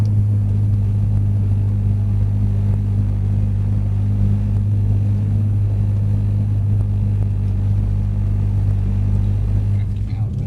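A Mercedes C63 AMG lapping a track gives a steady, loud, deep engine rumble that holds throughout with little change.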